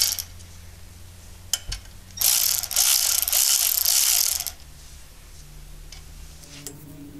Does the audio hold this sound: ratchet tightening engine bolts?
yes